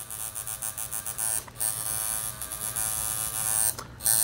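A tattoo machine needle buzzes steadily and loudly up close, a bright electric whine that dips briefly twice as the needle lifts off the skin.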